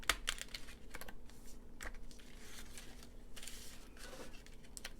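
A craft paper punch cuts a butterfly label shape from recycled pharmacy bag paper, making faint crisp clicks and rustling crunches in a quiet room with no talking.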